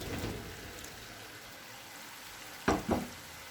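Potatoes frying in spices give a soft, steady sizzle, then cauliflower pieces drop into the pan with two quick thuds that briefly lift the crackle.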